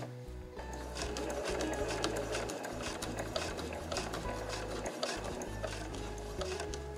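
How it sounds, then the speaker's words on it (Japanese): A sewing machine stitches fur fabric for a drop-shaped tote bag, running steadily and close with a continuous mechanical whir and rapid needle clatter, pausing briefly a few times. "パーフはずれやすいので目打ちでしっかり押さえながら縫うといいですよ。"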